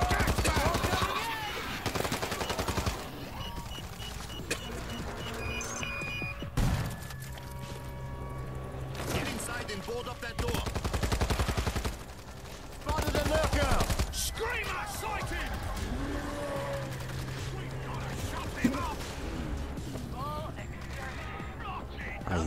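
Gunfire from a gun in the World War Z: Aftermath video game, with bursts of rapid shots, clicks and mechanical clatter over about twenty seconds, mixed with voices and game noise.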